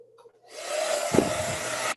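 A handheld hair dryer switches on and blows steadily during a hair-styling session, a loud close whooshing hum with a brief rustling bump partway through, then cuts off abruptly.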